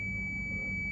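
A multimeter set to continuity on a broken motherboard jumper wire gives one steady, loud, high-pitched beep that lasts the full second, close by, with no speech over it.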